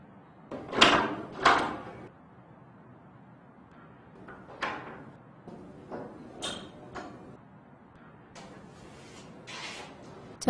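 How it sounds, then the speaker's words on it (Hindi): A door is pushed shut with two solid knocks and a rattle close by, followed by a few quieter bumps and clicks of the latch and frame. "दरवाज़ा बंद कर दो।"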